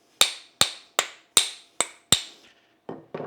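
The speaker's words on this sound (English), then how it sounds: "This one has metal tenons, so I'm going to use a metal hammer." Six sharp metallic taps in a steady rhythm as a metal hammer drives metal wedges into an ax head, close and crisp, followed by two softer knocks.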